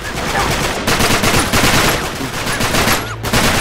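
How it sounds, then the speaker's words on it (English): Sniper gunfire in the video game Uncharted 3: Drake's Deception, a dense run of loud game gunshots and bursts layered with battle noise, continuous for several seconds with a brief lull near the end. "Shit, there's a sniper!"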